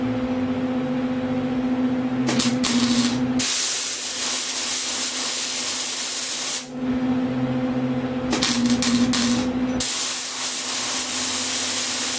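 A spray gun paints color onto a car fender in a home shop, its broad steady hiss running in long bursts broken by short pauses, close and loud, with a low compressor hum underneath and no talking.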